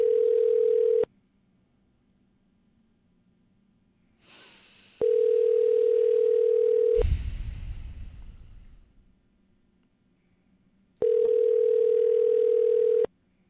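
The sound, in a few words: telephone dial tone during a cold call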